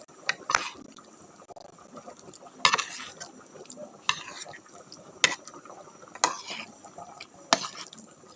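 Homemade fish balls frying in a heated pan, a soft steady sizzle broken by sharp periodic clinks and scrapes of a utensil against the pan, fairly quiet and close with no talking.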